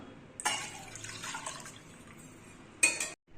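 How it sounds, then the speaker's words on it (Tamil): Water poured into a pot of fenugreek curry, a short splashing pour that starts suddenly and trickles on for a couple of seconds, then a second brief splash just before it cuts off. "இப்போ இதில் தண்ணி சேர்த்துக்கலாம்"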